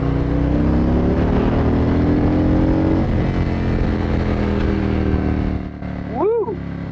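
A motorcycle engine climbs steadily toward redline, its rising whine building for several seconds, then drops off sharply and rebounds in quick throttle blips; the sound is loud and close.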